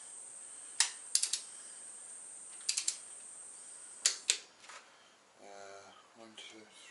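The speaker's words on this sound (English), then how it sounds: "Time for the torque wrench." A torque wrench tightens main bolts on an RB25DET engine with an N1 oil pump, giving several bursts of quick ratcheting clicks in short groups, close and crisp, followed by someone speaking.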